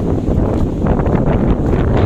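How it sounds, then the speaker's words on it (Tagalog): Strong wind at a beach in Boracay buffets the microphone with a steady, heavy rumble that gusts and swells throughout, loud and close, with no voices. "Lakas ng hangin, no?"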